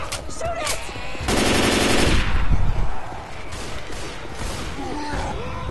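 Gunfire in the video game Left 4 Dead 2, in a survival round on the Mall Atrium map: scattered shots, then a loud, sustained automatic burst lasting about a second, tapering back to sparser shots amid game noise.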